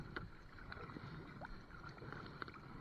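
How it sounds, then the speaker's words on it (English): A kayak is paddled on a windy reservoir, with soft repeated paddle dips and splashes over low, steady wind rumble, faint and close. "Here comes the wind again, which means I have to paddle harder."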